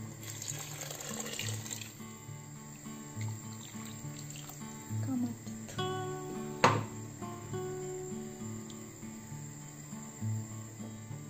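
Hot boiled water from a second pot poured into a simmering Romanian sorrel (loboda) soup with vegetables and potatoes; a steady, moderately loud pour splashes for several seconds over kitchen background.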